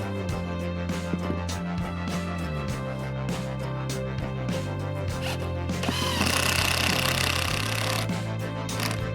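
A power drill driving screws into a wooden homemade wedding arch: a continuous loud, rough motor whine that shifts pitch in steps as each screw seats, rising into a harsher burst near the end, with no talk.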